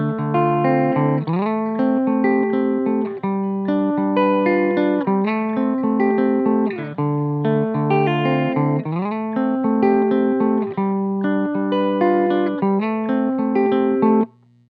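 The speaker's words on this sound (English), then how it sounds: "I'm just going to jump right into the clean channel of the Pedaltone." Telecaster played through the clean channel of a Koch Pedaltone with both pickups selected, strumming sustained chords in a steady rhythm, full and continuous for about fourteen seconds before cutting off at the end.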